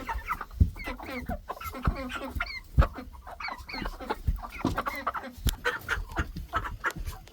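Several meat chickens cluck and squawk close by in quick, uneven bursts, with a busy farmyard feel.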